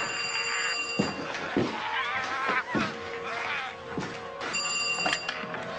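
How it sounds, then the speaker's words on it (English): A telephone rings indoors in a tense domestic scene, its repeated bell-like trills sounding near and fairly loud, in short bursts separated by gaps, with faint background noise and movement between the rings. "That phone."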